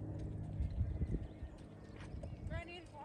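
Tennessee Walking Horse moving at a running walk around an arena, its hoofbeats landing in a steady clip-clop rhythm, with a brief whinny near the end and some talking over it.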